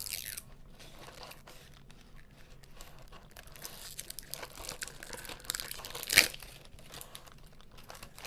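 Washi tape backing is peeled off with a soft, faint crinkling rustle, ending in one sharper crackle near the end, with no talking.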